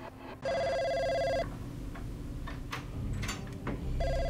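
A telephone rings with a loud electronic trill in a room, one burst near the start and another beginning at the end, over a murky background.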